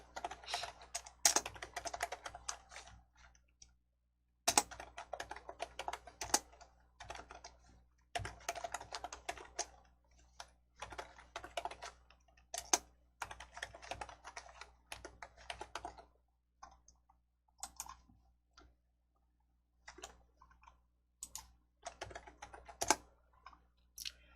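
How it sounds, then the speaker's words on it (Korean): Keyboard keys and mouse buttons clicked while copying and pasting code in an Entry coding lesson, a long close run of quick clicking taps in clusters, broken by brief pauses and a few sharper single clicks. "오른쪽 버튼 누르시고 코드 복사 붙여넣기, 오른쪽 버튼 누르셔서 코드 복사 붙여넣기."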